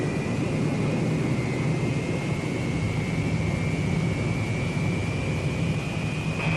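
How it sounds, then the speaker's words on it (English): Jet engines of a Boeing B-47 Stratojet bomber power up for the takeoff roll on a runway, a loud, steady roar with a rising whine held throughout, no voices. "Once you're lined up on the runway, all you need is a final check and power for the takeoff roll."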